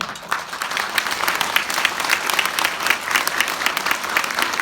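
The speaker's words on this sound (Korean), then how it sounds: "네, 박수로 맞아주시기 바랍니다." Audience applause at an Incheon city mayor's public visit event in Gyeyang-gu, a broad steady clapping from a seated crowd lasting several seconds without pause.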